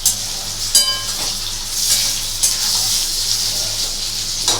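Paneer cubes frying in a pan of oil for a Bengali potato and paneer curry, giving a steady close sizzle and hiss throughout with a few brief clinks and stirring sounds.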